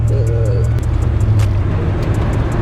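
A manual car's engine hums at close range as the driver shifts gears, with a low, steady rumble and no one speaking.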